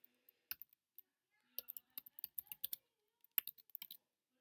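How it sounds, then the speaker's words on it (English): Someone types a password on a computer keyboard: scattered soft key clicks, a few isolated taps then quick bursts of several keystrokes, close and quiet. "if I type in my wife's password here"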